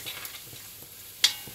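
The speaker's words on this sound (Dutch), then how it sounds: "Dus dit even laten bakken." Onions, garlic and carrots frying in a pan for nasi, a soft steady sizzle with light stirring scrapes and one sharp clink of a utensil near the end, no voices.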